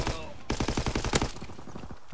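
Rapid automatic gunfire from a Call of Duty WWII match, a dense burst of close, loud shots in quick rhythm for about a second before thinning out, with a voice speaking briefly.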